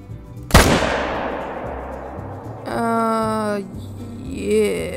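A single sharp rifle shot cracks out close and loud in theHunter: Call of the Wild on the Vurhonga Savanna, aimed at a warthog, its echo trailing off, followed by a brief tonal in-game sound.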